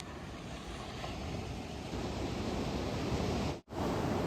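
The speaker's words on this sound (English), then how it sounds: "Look at those waves." Ocean waves breaking on a beach make a steady, broad rushing wash that swells slightly toward the end, mixed with wind buffeting the microphone. There is a brief dropout near the close and no talking.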